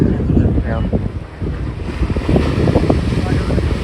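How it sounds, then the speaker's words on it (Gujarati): Steady roar of surf and gusting wind buffeting the microphone at Madhavpur beach in Gujarat, loud and close, with a faint voice briefly audible underneath. "હાલો અમે માધવપુર બીચે પહોંચી ગયા છીએ"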